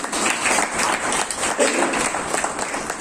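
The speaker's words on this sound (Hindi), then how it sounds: "तो फिर से एक बार अच्छी सी ताली हो जाए" Church congregation applauding its youth at a Good Friday service, a dense, steady wash of clapping heard fairly loud and close, with no clear speech over it.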